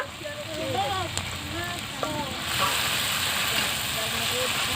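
Ginger paste dropped into a hot pan for Bengali sol fish kalia, a steady close hiss and sizzle that swells louder partway through, with a voice and a voice speaking faintly over it.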